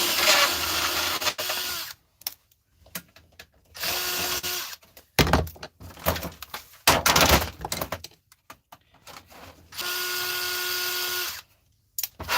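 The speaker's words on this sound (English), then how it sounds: "Take out these screws." Screws being removed from a fitting with a power drill or driver, in short whirring bursts of several seconds, separated by pauses with clicks and handling noises, fairly close and loud with no talking.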